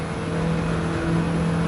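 Race car engine in Gran Turismo 7 droning steadily at high revs as it shifts into fifth gear, a continuous loud tonal whine with no gaps across the short stretch.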